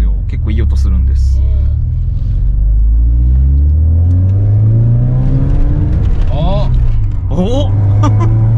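An Alfa Romeo 145 engine revs and pulls from inside the cabin, a loud low droning rumble rising and falling in pitch as it accelerates, with people talking over it throughout.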